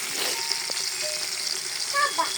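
Onions and chilies fry in hot oil with a constant soft sizzle, a few brief scraping clicks of a spoon heard close up.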